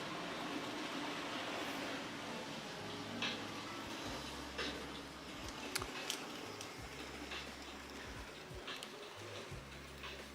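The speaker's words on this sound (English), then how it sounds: "So the trains are running by, and it's just sort of a nice little rhythmic sound." N scale model trains run along a layout track, making a steady, faint rhythmic clicking and ticking under a low mechanical hum, with sharper clicks scattered through.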